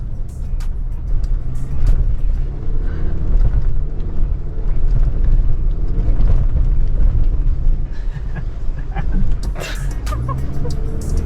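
Steady engine rumble of a Chevrolet Silverado HD ZR2 Bison pickup grinding through sand in Johnson Valley, with a low, continuous drone and faint clatter; voices talk underneath now and then.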